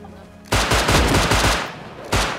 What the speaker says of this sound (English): Stop shooting him.